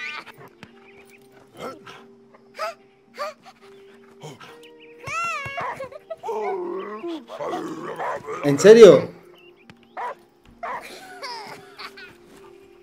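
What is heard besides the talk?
dog in the video game Last Day of June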